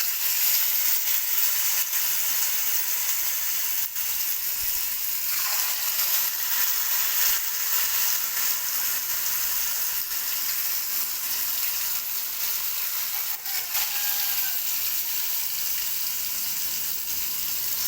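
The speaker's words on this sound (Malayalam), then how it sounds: "ഈ എണ്ണച്ചട്ടിക്ക് തന്നെയാണ് കേട്ടോ ചിക്കൻ പൊരിച്ചിടുന്നത്" Steady, dense sizzling and crackling of chicken frying in oil, continuous and close throughout with no talking.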